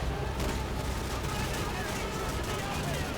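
Gunfire in the Call of Duty 4 campaign, a dense continuous barrage of shots and explosions blending into a loud rumbling wash, with a voice talking over it.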